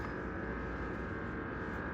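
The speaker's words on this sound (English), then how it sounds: "my deep freeze decided to become noisy all of a sudden" A deep freezer hums noisily with a steady, dense drone that never lets up, close and fairly loud, with no other sounds.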